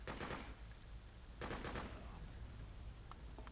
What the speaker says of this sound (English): We're getting shot by a gentleman hiding behind a trash can.